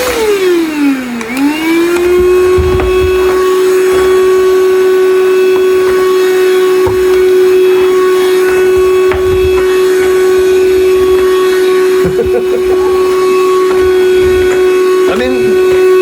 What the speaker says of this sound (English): So let me test the vacuum cleaner.